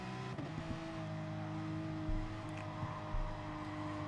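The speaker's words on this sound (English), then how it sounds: "Can hear the tyres squirming" Race car in a sim racing game at Barcelona, a steady engine drone with tonal whine, with faint tyre squirm and scrub sounds audible beneath.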